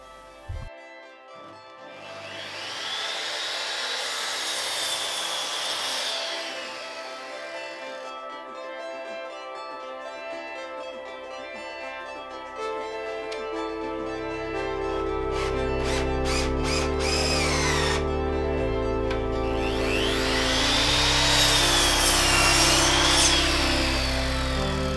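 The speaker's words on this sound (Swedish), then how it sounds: "Men nu ska vi såga upp lite reglar." A handsaw cuts through wooden studs during steel door installation, with steady back-and-forth rasping strokes that pause briefly midway and then resume, loud and close, with no talking.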